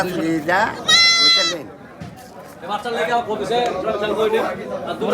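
A young goat bleats in a few quick, high wavering cries, close by, followed by people chattering in the background.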